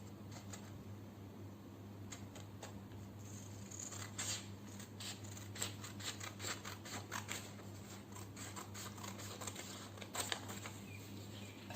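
Scissors snip through a folded red paper sheet at a school craft session, a quiet run of small crisp cuts clustering in the middle and end over a steady low hum, with no voices.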